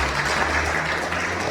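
A church congregation clapping in praise of Jesus, a dense, steady burst of many hands clapping together in a reverberant hall.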